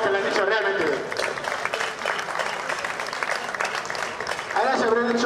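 An audience applauds two reenactors after a falcata and spear bout with caetra and scutum shields. The clapping is loud and sustained, and voices speak over it at the beginning and end.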